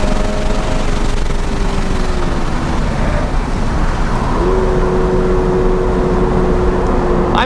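A 2022 Subaru BRZ sports car at speed on the Lime Rock Park race track, its engine drone and road roar steady and loud, with a gear change partway through as the pitch drops and climbs again.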